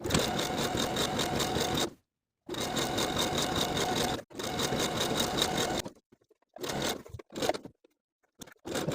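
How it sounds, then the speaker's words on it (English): A sewing machine stitches a hoodie hem band onto the bottom of the garment, running in three long steady bursts with brief pauses, then a few short stop-start stitches near the end. "Now we can sew the hemband to the bottom of the garment with a 3/8 inch seam allowance"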